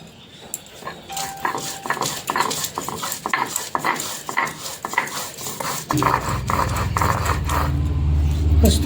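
Soaked cashews and poppy seeds being ground together into a paste, with rhythmic scraping and knocking strokes that swell into a louder, steadier grinding near the end.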